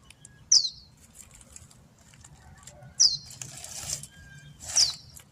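A baby bird tries to fly, making three short, fluttering bursts of wing flaps spaced a few seconds apart, close and fairly quiet against a low background hum.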